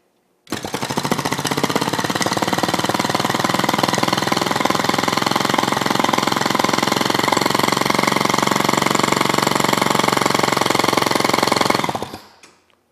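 A total expansion engine running on hydrogen fuel, loud and close, starting abruptly and holding a dense, rapid, hammering beat for about eleven seconds before cutting off and fading.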